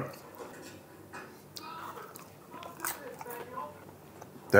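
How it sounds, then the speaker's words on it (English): Biting and chewing crunchy battered fried chicken from McDonald's in Thailand, a series of close, sharp crunches and moist chewing sounds in an irregular rhythm, with brief vocal noises between bites. "Good crunch on that batter."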